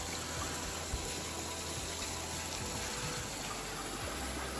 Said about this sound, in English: As you can hear, a little flow on the falls as things are starting to melt away.